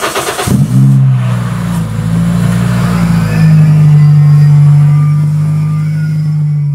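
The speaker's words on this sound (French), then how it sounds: "je vais mettre quelques coups d'accélérateur pour faire monter gentiment en pression" A car engine idles and revs with several throttle blips during an engine check for a leaking rocker cover gasket, loud and close, with a steady droning tone that rises and falls.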